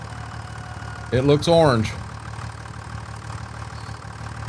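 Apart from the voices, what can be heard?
tractor engine idling while stopped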